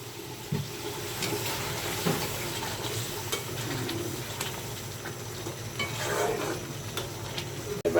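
Eggs go into a frying egg korma, and a steady broad sizzle of hot oil and sauce runs throughout, close and moderately loud, with faint utensil taps and no speech.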